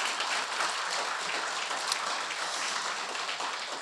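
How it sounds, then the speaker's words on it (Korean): Steady audience applause fills a lecture hall during a talk on Korean studies and Korean Buddhism in Los Angeles, a continuous wash of clapping heard from a moderate distance with no voices over it. "여러분 박수를 한번 보태 주십시오."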